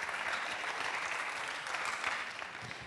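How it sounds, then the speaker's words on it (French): Dense, even applause from a seated audience welcoming three guests to a discussion panel, loud and continuous throughout. "Vous pouvez les applaudir."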